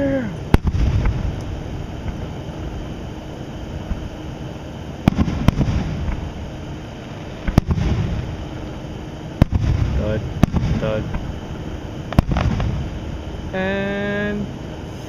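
Fireworks bursting outdoors on a July night, sharp loud booms and cracks arriving every couple of seconds over a steady background, with some crackle; voices talk and cheer between the blasts.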